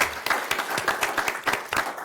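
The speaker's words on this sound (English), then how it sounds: "One more round of applause" A round of applause at an Elk Grove city council meeting, a crowd clapping steadily with distinct overlapping claps for about two seconds, fairly close and loud.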